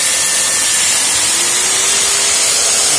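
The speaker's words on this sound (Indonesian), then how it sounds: "Saya coba nyalakan pertama mesin bor, kedua mesin gerinda guys." An electric drill and an angle grinder running together off a portable power box fed by a used motorcycle battery, a loud continuous high whine with a slowly rising motor tone.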